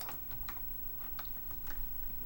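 Someone types on a Bally Astrocade keyboard with quick, faint clicky keystrokes at an irregular pace, with no voices.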